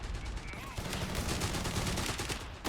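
Dense, steady battlefield gunfire from Company of Heroes 3 in a 2v2 online match, with continuous machine gun bursts and barrage layered through the whole stretch and a faint voice underneath.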